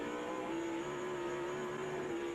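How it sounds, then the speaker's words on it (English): Kurt Busch's race car engine holds a steady high-pitched drone with a brief bump at the rev limiter, loud and continuous on track at the Dodge Save Mart 350. "Heard him bump that rev limiter."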